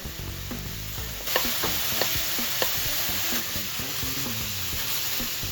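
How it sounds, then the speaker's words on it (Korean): Meat for japchae stir-fries in a pan, a close, steady sizzle punctuated by repeated clacks and scrapes of a utensil stirring, with no voices. "먼저 고기를 볶아줍니다"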